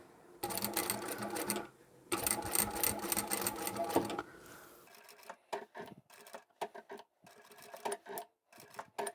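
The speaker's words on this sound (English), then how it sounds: "And then as I come up to the straight edge, I'll just continue sewing." A sewing machine stitches fabric along a curved line and then a straight edge, running in two long loud bursts and then in short, rapid stop-start runs of rhythmic mechanical clatter, with no talk.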